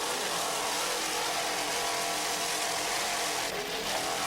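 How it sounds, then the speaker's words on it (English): Offshore powerboat racing off Fort Lauderdale in 1993, a boat driven by twin 500 hp Mercury engines, roaring loud and continuous as a dense, steady drone with no talk. "Just listen to those two 500 horsepower Mercury engines."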